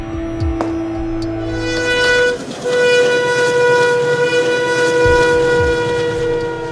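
A train runs along a railway track beside a river, its loud horn sounding in long sustained tones over the rumble of rail cars passing close by.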